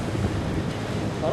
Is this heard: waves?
yes